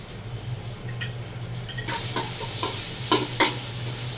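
Ginger paste hits fried onions in a pot for biryani, giving a steady moderate sizzle over a low hum, with occasional stirring scrapes and a few louder clacks toward the end.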